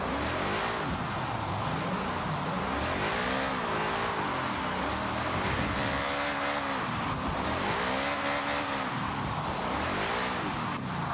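Porsche drifting in Forza Horizon 6, a loud engine roaring continuously with repeated rising and falling revs as the car slides through corners, tyres hissing underneath.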